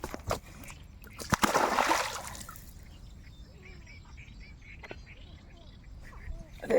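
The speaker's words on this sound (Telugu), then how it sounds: "యాగే నీళ్ళు చల్లేస్తుంది." A freshly caught fish of about 1.5 kilograms thrashes and throws up water, making one burst of close splashing followed by quieter drips and small sounds.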